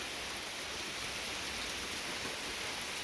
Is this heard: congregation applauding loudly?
no